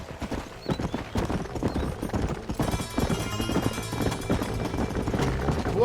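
Horse hooves gallop in the Red Dead Redemption video game, a fast, continuous close clip-clop with occasional neighing, loud and steady throughout.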